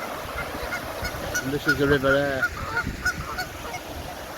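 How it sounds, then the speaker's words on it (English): Canada geese honk by a river in a short burst of several nasal calls near the middle. The calls are moderately close, with someone speaking quietly before them. "there's a couple of Canadian geese"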